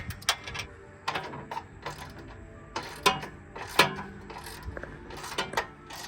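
Jubilee hose clips being tightened on the intake pipe of a Mazda MX5, a close series of short ratcheting clicks and metallic ticks coming in irregular bursts, with no talking.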